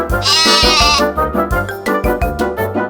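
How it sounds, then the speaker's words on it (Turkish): A lamb bleats several times in quick succession, a high wavering cry followed by shorter bleats, close and clear. "Peki çimenlerde ne var? Küçük bir kuzu."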